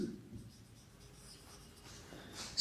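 Writing on a board during a lecture on Euler's buckling load: faint scratching strokes that end in a louder, sharper squeak, alone in a quiet room.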